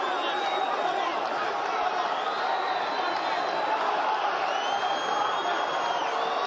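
Arena crowd at a WBO heavyweight championship boxing bout, a continuous loud roar of cheering and chatter with whistles and whoops rising over it, sustained evenly throughout.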